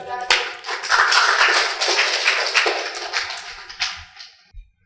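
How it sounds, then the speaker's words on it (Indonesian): Short burst of clapping from a small group at a university teacher-training presentation session, loud and dense, then tapering off near the end. "Berikan tepuk tangan boleh."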